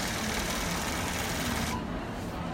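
A Gammill longarm quilting machine stitches a quilt at a market, a dense, steady mechanical rattle close by that drops in brightness near the end.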